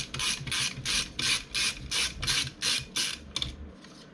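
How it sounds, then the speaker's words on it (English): A screwdriver turns a screw back into the CPU fan plate of an HP Pavilion G7-2270US laptop, giving a quick, steady series of about ten close ratcheting clicks with no talk. "We'll go ahead and we will screw it back into the plate."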